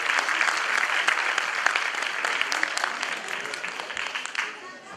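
Audience applause at a Turkish oratory competition in Sefaköy, as the first-place winner is called up to the stage: dense, steady clapping from a large crowd for the full five seconds that thins slightly toward the end.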